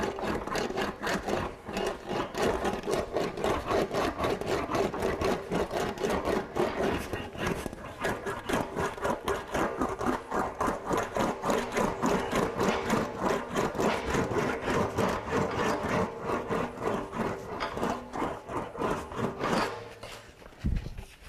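An English wheel rolls back and forth over a motorcycle gas tank panel, making a continuous close grinding rumble with a rapid rhythmic pulse that stops near the end.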